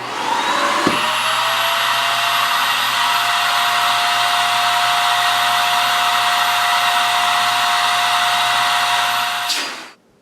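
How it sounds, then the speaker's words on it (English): A Riccar R40P upright vacuum cleaner switches on with a click and runs with a loud, steady high whine for about nine seconds before shutting off, close and alone. "I'm just going to turn it on, run it for 7 seconds to demonstrate that"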